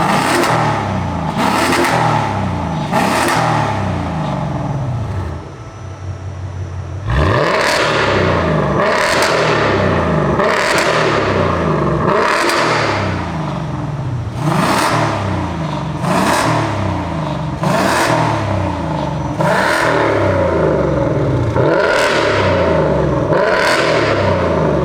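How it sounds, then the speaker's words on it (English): Ford Coyote V8 with its exhaust valves open, revved hard in repeated loud bursts roughly every couple of seconds, each rise and fall close and dominant, with a brief dip in the middle before revving resumes. "That sounds like a proper Coyote."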